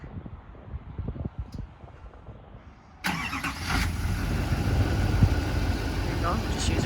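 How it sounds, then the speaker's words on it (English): A truck engine cold-starts by remote start, cranking abruptly into a steady, fairly loud idle after a quiet stretch with faint background noise. "I wanted to try and cold start it"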